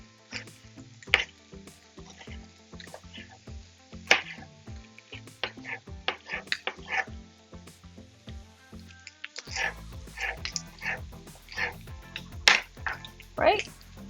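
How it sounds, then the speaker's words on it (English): A knife slices a spring onion lengthwise on a cutting board for a spicy Thai beef salad, giving a series of short, crisp taps and clicks over a steady low background. "Then 1 spring onion. Let's cut it into lengthwise."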